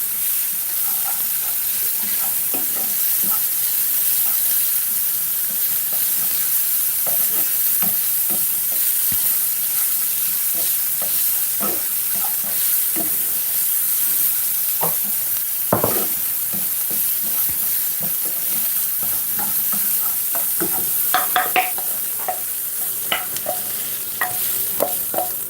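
Yakiniku beef fries in a hot pan while being stirred, a steady sizzle running throughout with scattered clicks and scrapes of the utensil against the pan, close and without talk.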